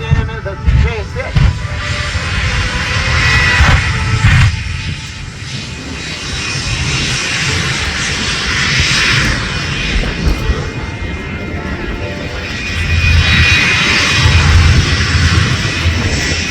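A Bone Shaker jet-engine truck runs at an air race event, giving off a loud, continuous roar that rises and swells, with brief surges toward the end.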